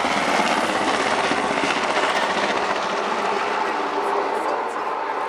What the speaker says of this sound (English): And this is one of the world's most successful battlefield helicopters.